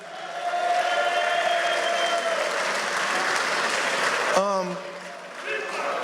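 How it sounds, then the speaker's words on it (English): A crowd applauding loudly and steadily for several seconds at a Floyd Mayweather speaking event in Newcastle City Hall, then fading as a voice starts speaking over it. "give James a round of applause."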